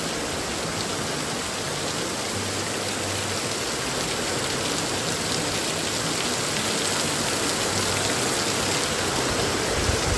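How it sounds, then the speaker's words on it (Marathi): Heavy monsoon rain pours steadily outside a house during Ganesh Chaturthi, a dense, unbroken hiss of drops on surfaces that stays loud and constant throughout with no voices. "पाऊस बघा किती मगापासून नुसता पाऊस पडतोय"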